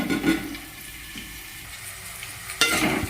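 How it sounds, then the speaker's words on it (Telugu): Onions sizzle quietly in a pan at home, a soft continuous frying hiss with a few brief stirring scrapes near the start and end. "ఇవి గోల్డెన్ కలర్ వచ్చే వరకు వేగనివ్వాలి."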